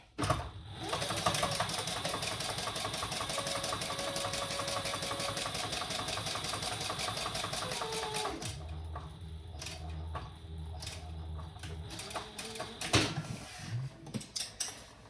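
A sewing machine top stitching a Large Alyssa Crossbody bag, a Kaya Papaya pattern, runs in a steady, close, rapid mechanical whir for about eight seconds, then slows into a softer hum with a few clicks and knocks.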